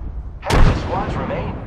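A frag grenade goes off in Apex Legends with a sudden, loud blast about halfway through, then a rumbling, crackling tail of debris and game effects that lasts to the end. A faint in-game voice comes just before the blast.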